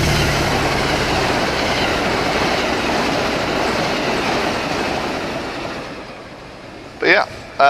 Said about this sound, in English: the other Amtrak train I have going is the Pennsylvania